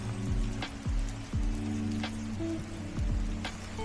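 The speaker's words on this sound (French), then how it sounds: "Par contre il pleut" Rain falls outdoors in Wales with a steady patter under low, rumbling background noise, moderately loud and continuous.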